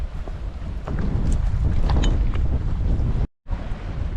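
A northwest wind blows along the rocky coast near Knidos in Datça, a loud, rough roar with gusts buffeting the microphone and a brief dropout near the end.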